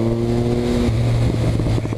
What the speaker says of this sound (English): the thing that impresses me about this bike is its instant usable torque